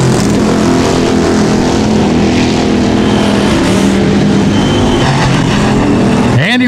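Sportsman race cars at Rapid Speedway roaring through a heat race finish, a dense loud wall of engine noise with overlapping revs, and an announcer talking over it.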